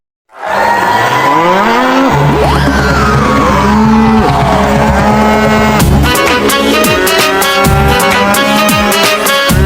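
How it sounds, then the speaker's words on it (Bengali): A cow being unloaded at a small cattle market in Dhaka lets out long, loud moos close by. The calls come in repeated drawn-out bellows over a constant rumble of background noise. "এই যে একটি গরু এখন এখানে নামানো হচ্ছে"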